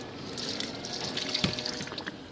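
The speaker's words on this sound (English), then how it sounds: "pour some water into that one at the front" Water is poured into a drain at close range, a steady splashing trickle that runs for a couple of seconds with small gurgling swells.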